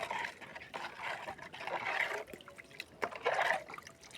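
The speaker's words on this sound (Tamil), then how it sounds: "குழம்பு கிண்டி விடணும்." Fish curry (kuzhambu) is stirred in a pot, producing a continuous wet, sloshing and scraping sound with a soft liquid gurgle. The sound is close, moderately quiet and steady, with no speech over it.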